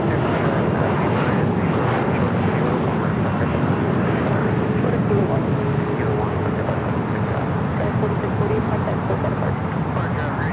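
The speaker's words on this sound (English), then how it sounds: "FedEx 767 to be taken off here shortly, as well as that Atlas Air Queen." A FedEx Boeing 767 jet taking off at LAX in Los Angeles gives a steady, loud engine roar and rumble that holds for the whole stretch, with faint traffic noise beneath and some talk over it.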